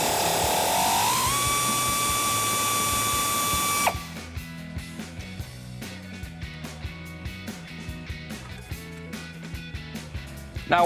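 Ratchet working a bolt out of the suspension on a 2008-2023 Dodge Challenger: a power-tool whine first, then a close, rapid series of rhythmic ratcheting clicks, ending in a sharp burst.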